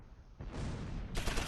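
Gunfire in the World War II tactics game Close Combat IV, a sudden burst of shots erupting from near quiet and then swelling louder in a second surge.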